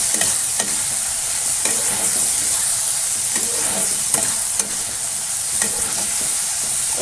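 Vegetable curry sizzles steadily in a hot pan, with close, repeated scrapes and stirring strokes over a continuous frying hiss and no talking.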